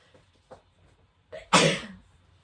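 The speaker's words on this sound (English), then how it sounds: "I'm about to sneeze again because it's springtime" A single sharp sneeze bursts out loudly after a couple of faint breaths and a sharp intake, then fades.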